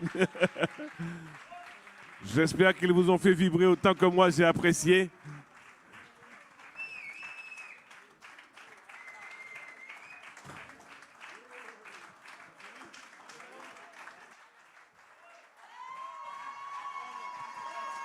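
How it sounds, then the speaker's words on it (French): After a jazz performance, the audience gives a short loud burst of applause mixed with cheering, surrounded by a presenter speaking before and after. "on peut encore les applaudir très très fort"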